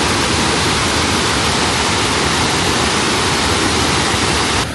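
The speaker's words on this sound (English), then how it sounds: "Oh, just listen to the sound of that water." Rushing river water at Confluence Park in Denver, a loud, dense, continuous roar of churning flow with no voices, unbroken for the full length.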